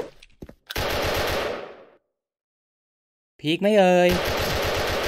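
Rapid automatic rifle fire from an M16A2 in a shooter video game rattles out in two long, loud sustained bursts separated by a brief silence, with a voice speaking between them.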